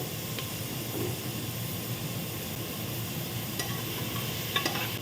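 Ripe tomatoes go into softened onions in a pressure cooker for chicken biryani, giving a soft, continuous sizzle and hiss with a few faint stirring clinks near the end.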